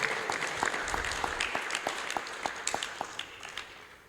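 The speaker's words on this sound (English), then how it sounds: "give Ramesh a round of applause" Temple audience at a Sunday love feast gives a round of applause, a fairly quiet spread of many claps with sharp individual hand strikes standing out throughout.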